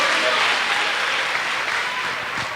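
Church congregation applauding during a Portuguese-language sermon, a broad continuous wash of clapping at moderate volume that slowly eases off, with some voices mixed in underneath.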